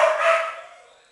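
A single high-pitched puppy yelp, close and fairly loud, trailing off quickly into quiet.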